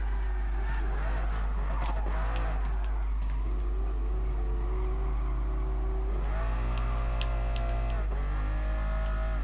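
A BMW M4 engine in the racing game GT Sport, a continuous droning engine note that rises and falls with revving and shifts, heard steadily throughout without talk.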